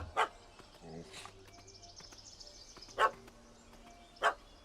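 Puppy barking in The Witcher 3: Hearts of Stone video game: three sharp, separate yips spaced a second or more apart, fairly faint over quiet ambience and a brief voice.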